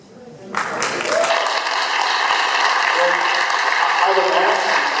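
An audience at a public administrative forum breaks into applause, a dense crackling roar of clapping that starts abruptly after half a second and holds steady and loud to the end.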